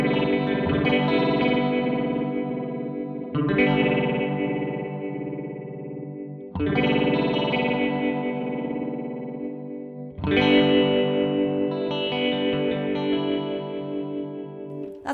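Glitchy ring-modulated electric guitar chords ring out in four separate strummed bursts, each sustaining and slowly fading, with metallic, warbling, chorus-like overtones and no talking.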